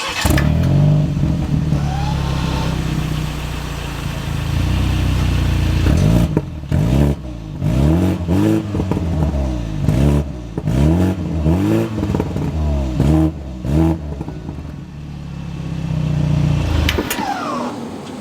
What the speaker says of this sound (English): the exhaust sounds pretty good. It's not overly loud, but you do get a raspy tone